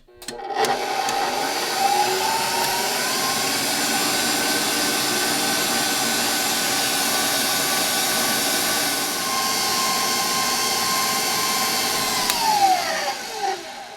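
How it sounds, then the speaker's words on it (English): An electric mixer whisks eggs and sugar for a Lazy Daisy Cake, humming with a loud, steady whir close by for the whole stretch and winding down at the end. "This is whisked up really nice. So all the sugar is dissolved into the eggs."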